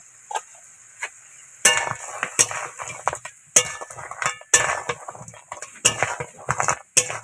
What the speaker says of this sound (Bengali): এবার কাঁকড়াগুলো দিয়ে দেবো কাঁকড়াগুলোও দিয়ে দিচ্ছি দিয়ে কষিয়ে নেব